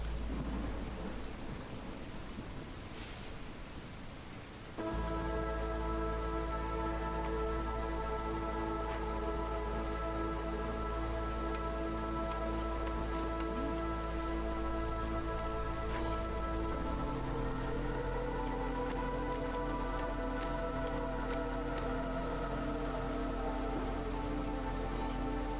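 A video game thunderstorm rolls on with steady rain and low rumbling thunder, joined by layered sustained tones from the game's ambient music that shift partway through.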